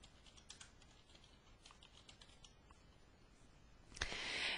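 Keys clicking on a computer keyboard while a password is entered, a quick irregular run of light taps up close, ending in a sharper burst of clatter.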